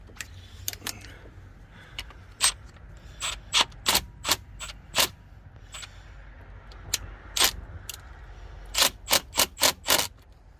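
Hand ratchet tightening a fitting on a Grady White Tournament boat during a build, a string of sharp, close clicks in short irregular bursts with pauses between them, no talk.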